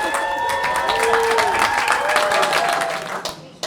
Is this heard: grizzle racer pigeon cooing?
no